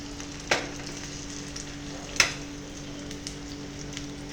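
Chicken frying in a pan, a steady low sizzle running throughout with a couple of sharper scrapes from stirring, close and moderate in level, no voices.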